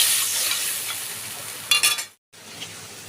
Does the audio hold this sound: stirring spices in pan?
yes